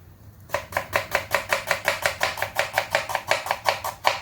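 A knife slices food thinly on a board for a Mughlai egg curry, about sixteen crisp, even strokes in a quick, regular rhythm after a brief quiet start, loud and close with no talking.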